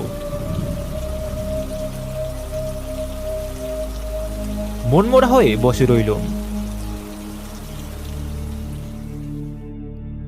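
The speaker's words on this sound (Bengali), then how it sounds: "প্রচণ্ড ঝড় বৃষ্টি মুহুর্মুহু বিদ্যুতের ঝিলিক আর মেঘের গর্জন" Heavy rain falls steadily over low rumbling thunder, while a voice speaks briefly in the middle.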